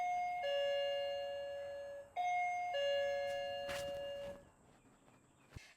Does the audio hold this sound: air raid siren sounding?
no